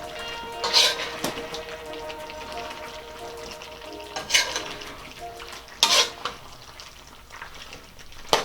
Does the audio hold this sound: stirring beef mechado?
yes